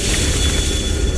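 Bombarda blasting spell detonating in Hogwarts Legacy, a dense low rumbling boom sustained across the whole moment, loud and heavy with no voices over it.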